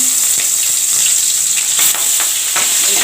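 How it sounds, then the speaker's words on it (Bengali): Tangra fish fry in hot oil in a pan, a loud dense sizzle with sharp spluttering pops throughout. "ট্যাংরা মাছ দিলে কিন্তু যে ফুটবে"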